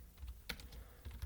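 Light typing on a computer keyboard, a few soft, close key clicks in an irregular rhythm, quiet and alone.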